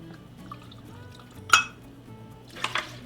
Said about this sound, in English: I'm going to put in 6 ounces of the white tequila